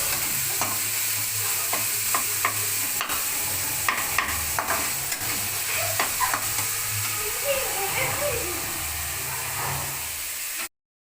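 Continuous sizzling and frying of onions and tomato in a pan for potato masala, with occasional stirring scrapes, steady and close, ending abruptly.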